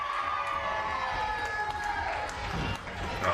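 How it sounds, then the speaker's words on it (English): A crowd at an Annbank pro wrestling show cheers steadily for wrestler Rubi Roberts, a dense, sustained wash of voices and shouts close around, with a brief dip near the end before swelling again. "Ruby Roberts getting the adulation from the crowd"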